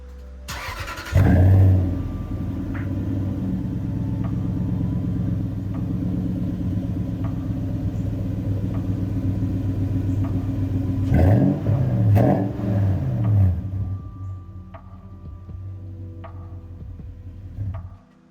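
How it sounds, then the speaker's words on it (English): A first-generation Toyota Sequoia SUV with an aftermarket muffler starts and idles with a deep, throaty exhaust rumble, then revs up twice with a growling roar before settling and cutting off. "I'll go ahead and throw a clip of the exhaust in now"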